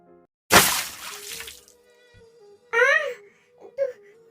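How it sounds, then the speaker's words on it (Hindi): Water is thrown onto a person in a sudden loud splash that hisses away over about a second, followed by a voice crying out and whimpering. "तुमने क्यों मेरे ऊपर पानी फेंका?"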